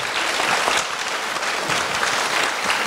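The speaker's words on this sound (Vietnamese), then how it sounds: "Xin đại chúng cho một tràng pháo tay thật lớn." A large audience at a Buddhist dharma talk applauds, producing a steady, loud, continuous wash of clapping with no break throughout.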